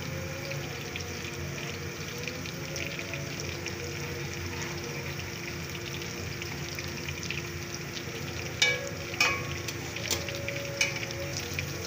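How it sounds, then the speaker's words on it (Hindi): Food fries steadily until golden brown, a continuous soft hiss with a few brief clinks and scrapes near the end and no voices. "इसको गोल्डन ब्राउन होने तक हम इसको भूनेंगे।"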